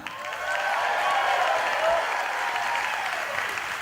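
Applause from an audience at an Irish music festival welcoming a band, clapping swelling after a quiet start and holding steady, with some cheering mixed in.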